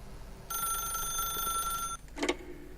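A telephone rings in The Stanley Parable video game, a steady electronic bell tone held for about a second and a half, then cut off and followed by a short clatter as the receiver is picked up.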